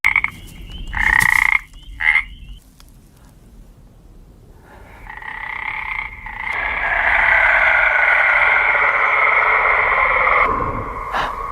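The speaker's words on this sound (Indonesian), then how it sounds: "Ia mendengar suara kodok" Frog croaking, a few short croaks at first, then building into a loud, steady chorus of rasping croaks that continues to the end.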